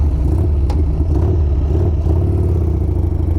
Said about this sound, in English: We're going to take it for a rip now.